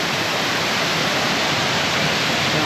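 Triple Falls waterfall in Tennessee with its clear water, a loud, constant rushing roar of falling water, close and unbroken, with no voices.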